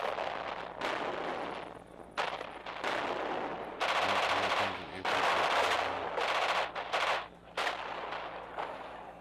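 In the World War II radio-command game Radio General, tank shelling and gunfire form a dense, loud barrage: sustained bursts of automatic fire and heavy booms in uneven waves, rising and falling over a rumbling background, with no talk.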